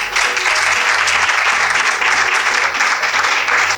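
Loud, dense applause from an audience before an award ceremony, many people clapping continuously and close with no pause.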